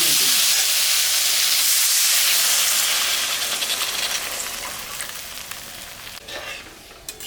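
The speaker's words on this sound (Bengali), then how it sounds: "তরকারিটা কষানো হয়ে গেছে এখন আমি ঝোল দিয়ে" Liquid poured into a pan of sizzling, whole-spiced tengra fish curry. A loud, bright hiss and sizzle bursts up at once, then slowly settles into a softer bubbling crackle, close up, with no talking.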